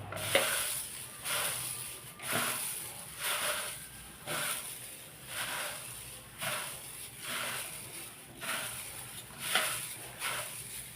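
Dried, crispy moringa leaves are crushed by hand into flakes, producing a rhythmic series of close, dry crackling rustles roughly once a second with brief quiet gaps between squeezes.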